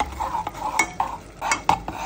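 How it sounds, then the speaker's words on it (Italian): A spoon stirs olive oil, cumin and sweet paprika in a small pot, with a series of soft scraping strokes and light metallic taps against the pot, close and quiet. "Mescoliamo tutto."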